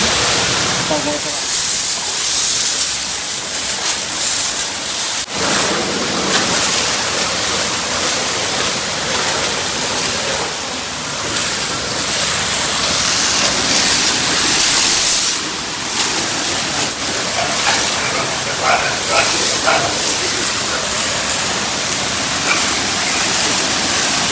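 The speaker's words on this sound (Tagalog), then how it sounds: "may halong disinfectant na rin po yung tubig na ini-spray po namin dito sa kulungan" Steady loud hiss of a pressure washer spraying disinfectant-mixed water on a farm animal pen, continuous throughout with slight surges, while a person talks over it.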